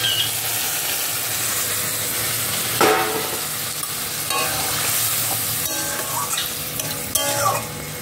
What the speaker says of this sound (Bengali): এবার গ্যাসটা একটু জোরে দেবো, দিয়ে এবারে দুধটা ঢেলে দিলে আমার শুক্তোটা কমপ্লিট হয়ে যাবে